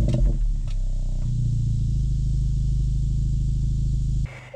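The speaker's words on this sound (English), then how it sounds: "We're gonna push that power engine start button," A 2024 Acura Integra Type S engine starting up, a brief starter clatter followed by a steady, low rumbling idle that holds evenly before dropping off near the end, close and loud.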